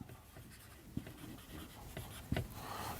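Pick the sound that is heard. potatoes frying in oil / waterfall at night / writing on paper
writing on paper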